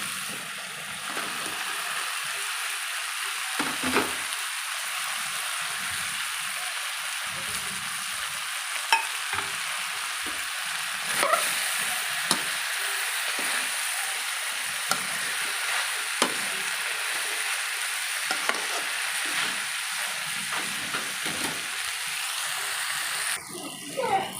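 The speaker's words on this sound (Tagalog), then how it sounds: "lalagay ko na rin itong pork" Pork frying in a pan with tofu, a steady loud sizzle throughout with occasional stirring scrapes and clinks close by, no talk.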